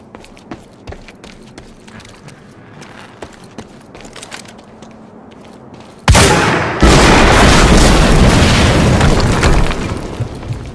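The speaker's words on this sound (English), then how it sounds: "HQ, we just heard an explosion near the harvesting perimeter." A loud, close explosion booms in the video game Quantum Break after quiet footsteps and small movements, followed by a sustained roaring rumble of debris and fire.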